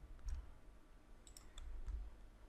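Mouse clicks on a Windows computer: a few soft, faint clicks spaced irregularly over a quiet background, with no talking.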